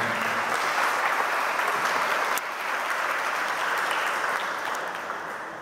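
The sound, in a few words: applause at a quinceañera mass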